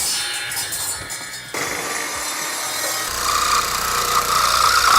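A saw cuts a wooden board for a kitchen woodworking project, the rasping strokes starting softly and then growing louder and rougher, close by and without talk.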